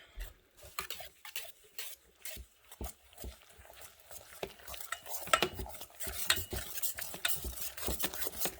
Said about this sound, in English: I guess I just mix it really well.